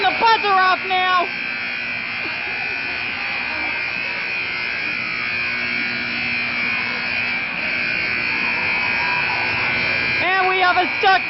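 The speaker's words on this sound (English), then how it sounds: "Okay, you can turn the buzzer off now." A stuck buzzer at a castle-themed event drones on without pause, loud and steady, while people talk over it at the start and again near the end.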